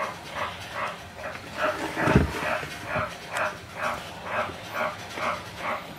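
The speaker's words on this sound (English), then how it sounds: "Excuse the frogs in the background." A steady, rhythmic series of croaking calls repeats about twice a second in the background, with a brief low thump partway through.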